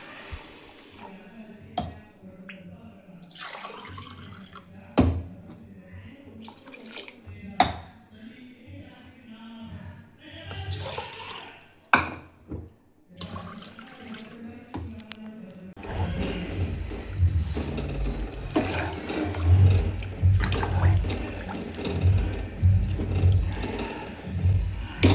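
Water poured over two glasses of rice in a pot for egg biryani. Quiet handling and small knocks come first, then a loud, continuous rushing pour fills the second half.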